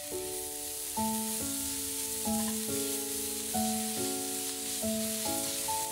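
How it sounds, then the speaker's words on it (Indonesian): Carrots stir-fried in a pan with sesame oil for a home-style bibimbap, a steady soft sizzle running throughout under a looping melodic background tune, with no talking. "Wortelnya kita tumis hingga 2 menit saja."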